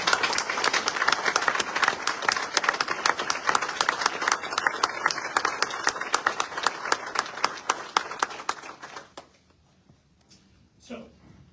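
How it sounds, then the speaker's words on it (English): Crowd applause at a military retirement ceremony for an Air Force general, with sharp individual claps standing out near and loud, fading to scattered claps and then near silence by the end. "So how about a round of applause for the Andrus family and all of you."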